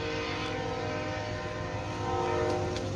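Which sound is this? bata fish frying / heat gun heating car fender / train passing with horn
train passing with horn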